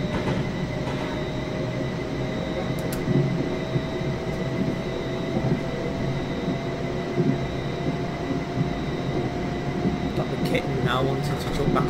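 A train in Train Simulator 2019 runs steadily at moderate loudness, a continuous rumble with faint rail clicks and brief squeals, while a person talks over it.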